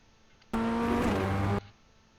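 A Ray FF1600 open-wheel race car in iRacing on the Zolder circuit, its engine suddenly loud for about a second with steady harmonic drone and tyre hiss, then cutting back to quiet.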